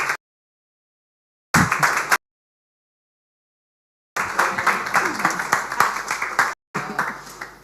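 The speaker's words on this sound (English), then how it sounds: "With a round of applause, please welcome Muneke from Founders Factory Africa." Bursts of clapping from an audience welcoming a speaker from Founders Factory Africa, broken by silent gaps, then a longer sustained round of fairly loud applause.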